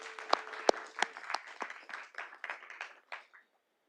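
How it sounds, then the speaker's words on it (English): An audience at a Little Rock city board of directors meeting claps for National Community Development Week, a short burst of scattered hand claps, a few sharp and close, thinning out and stopping after about three seconds. "Let's all give them a round of applause for National Community Development Week"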